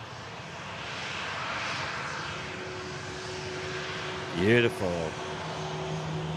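Ryanair airliner at Manchester Airport, a steady broad engine roar heard from a distance throughout, with a short voiced exclamation and a brief chirping sound partway through.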